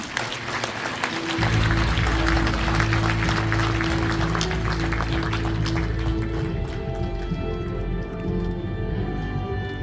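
An audience at a unification dialogue with Korean advisory council members applauds to welcome a speaker, clapping building after a second and continuing over a steady low hum, thinning toward the end.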